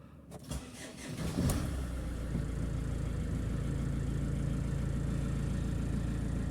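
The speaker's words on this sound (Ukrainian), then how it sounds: "Будемо пробувати запускати. Перший запуск після заміни підшипника." A Mercedes-Benz Vito 639 van engine, freshly repaired with a new bearing, cranks briefly and catches, then settles into a steady, loud idle hum that continues close by without any talking.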